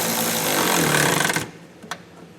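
A power tool rattles in a loud, fast hammering burst while tightening bolts on a Curt trailer hitch receiver under a 2022 Hyundai Kona, then cuts off, leaving a single sharp metallic click afterward.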